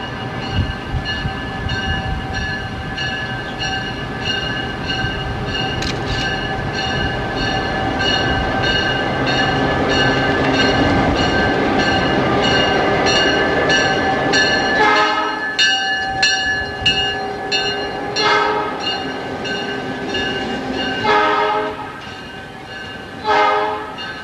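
A Norfolk Southern freight train rolls along the Saluda Grade, a steady loud rumble of engines and cars that fills the clip, with repeated horn blasts sounding from the middle onward, close and strong.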